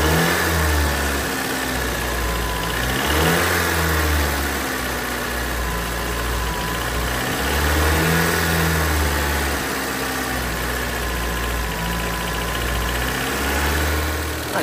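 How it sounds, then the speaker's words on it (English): An abandoned Honda Civic ED engine with a broken choke being revved to keep it idling, a loud, close mid-pitched drone that rises and falls in slow repeated swells of throttle, with no voices. "we had to rev it up a bit to keep it idling"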